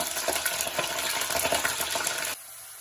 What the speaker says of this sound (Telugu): అవన్నీ బాగా చిట్టుపట్టాలిన తర్వాత తెల్లగడ్డలు వేసుకోవాలి.